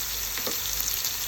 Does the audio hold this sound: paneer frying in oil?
yes